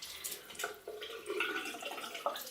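Running tap water splashes and patters as hands cup it and wet a face at a sink, in short irregular bursts that come close and fairly quiet.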